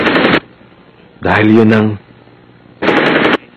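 Machine-gun fire from a Tagalog-dubbed Hunter x Hunter anime fight in New York City: two loud, dense rapid-fire bursts under a voice that speaks in the gap between them.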